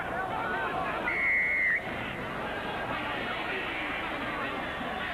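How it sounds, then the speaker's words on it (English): A referee's single short whistle blast cuts through crowd murmur and commentary at a 1989 City versus Country football match, brief and moderately loud over steady background babble. "The referee's blown the whistle"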